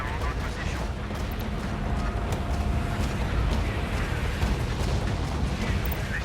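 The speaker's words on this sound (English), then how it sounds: "Their command vehicle is destroyed." A command vehicle blows up in the war game Tom Clancy's EndWar, a steady rumbling roar of blasts and battlefield noise running loud throughout, with voices talking beneath it.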